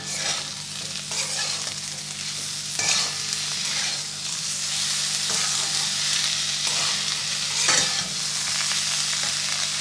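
Spiced masala with salt and sugar fries steadily in a pan for a Malabar spinach seed dish, giving a constant close sizzle broken by periodic scraping strokes of a stirring spoon.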